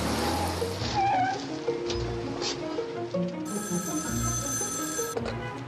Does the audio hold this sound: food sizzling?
no